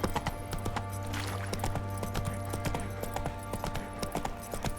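A horse's hooves clip-clop at a steady walking rhythm in The Witcher 3 video game, close and clear over a continuous bed of game music and ambience.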